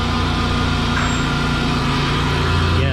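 A 2010 Dodge Grand Caravan idling with a holed exhaust, giving a loud, steady, rumbling drone close to the microphone throughout.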